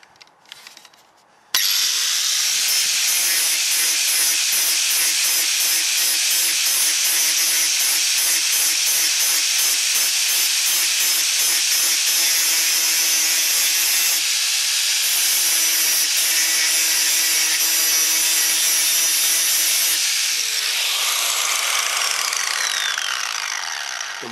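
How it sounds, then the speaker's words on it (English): An angle grinder with a grinding disc smooths spot welds on a steel fruit cage, a loud continuous abrasive whine and hiss lasting over twenty seconds with rhythmic pulsing as the disc sweeps back and forth. "all you basically need to do with a grinding disc, this isn't the right disc really, but just go over it like this"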